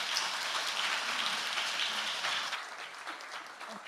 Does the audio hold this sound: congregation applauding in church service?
yes